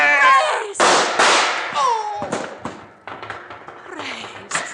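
Gunfire in an old-time radio adventure drama shootout, a series of sharp close pops and cracks spread across the scene, heard between shouts and dialogue from several voices.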